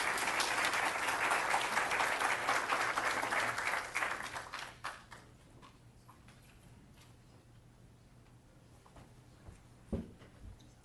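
An audience applauds after a lecture by Dr. Issam Raad, dense clapping for about four seconds that thins to scattered claps and fades into a quiet room with a faint low hum.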